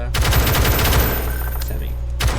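A gun in the game Call to Battle fires on increased auto mode, a fast rattling burst of close, punchy shots for about a second, followed by a pause and a single trailing shot.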